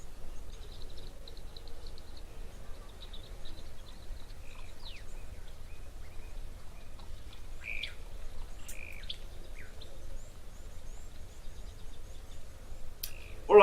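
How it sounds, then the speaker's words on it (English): Scattered bird chirps and calls ring out at a waterhole by Victoria Falls Safari Lodge, faint and intermittent over a low steady outdoor background, with a few sharper tweets near the end. "Loads of birds here."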